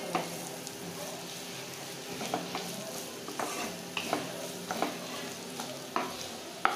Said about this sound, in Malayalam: സബോള ചെറുതായിട്ടൊന്ന് വഴറ്റി എടുക്കട്ടെ